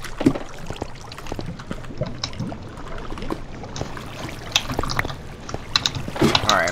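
Water is poured from a bucket in a blocky Minecraft-style video game: a soft splashing pour mixed with other game sounds while people talk over it.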